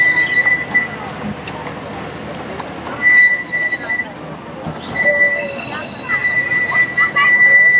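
The Legoland Express train at Legoland Günzburg rolls past nearby in the rain, wheels rumbling with repeated high metallic squeals, while a voice talks over it.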